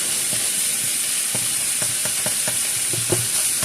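Ground beef fries in a pan while being chopped up small, a constant sizzle broken by repeated scraping taps of the utensil against the pan.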